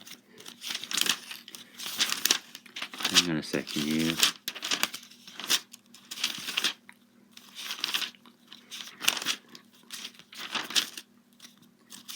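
Paper crinkles and rustles in repeated bursts as someone shuffles through pages, with someone speaking briefly in between.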